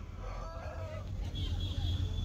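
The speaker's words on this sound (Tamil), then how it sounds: "இந்த சேவல்லாம் பாருங்கள் எவ்வளோ நல்லாயிருக்கு பாருங்கள்." A rooster crows at a large chicken market, a drawn-out call heard at a moderate distance over a steady crowd and market hum.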